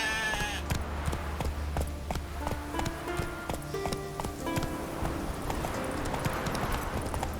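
Rapid hoofbeats clip-clop steadily as a horse gallops in The Witcher 3 video game, with musical tones and ambient sound beneath the rhythm.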